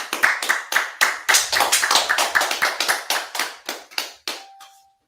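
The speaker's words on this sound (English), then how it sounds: "Mike, clap it up." Sharp, rhythmic hand claps ring out one after another, loud and close, as one person claps it up ahead of a Wednesday class; the claps thin out near the end, leaving a brief faint tone.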